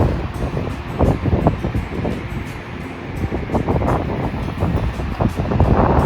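The fast-flowing Bhagirathi river rushes at its confluence with the Alaknanda in the winter Himalayas, a steady, loud churning roar of water mixed with gusting wind buffeting the microphone, with no voices.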